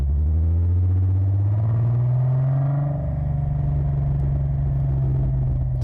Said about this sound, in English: Hear that burnout in the third gear.